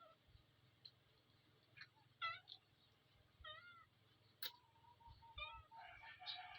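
Several cats meow at intervals, waiting to be fed at home, with short rising and falling calls and a chicken clucking faintly in the background.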